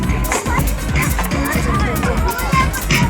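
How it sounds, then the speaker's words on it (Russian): A crowd of children runs and shouts on the ice of a frozen river at an ice park near Yakutsk, a busy, steady hubbub of young voices, footsteps and distant cheering with music faintly underneath. "Толпа детей."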